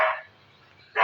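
Pet dog barking indoors at home, two sharp loud barks, one at the start and one at the end, separated by a quiet gap, close to the listener with no talking.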